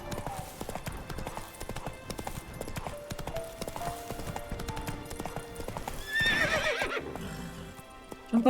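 Geralt's horse Roach in The Witcher 3 game gallops with quick, steady hoofbeats, then lets out a loud, close neigh near the end.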